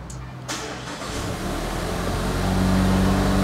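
A Mazda CX-5 engine cranks and catches, then settles into a steady idle that builds slightly in loudness, heard up close from inside the car with no talking.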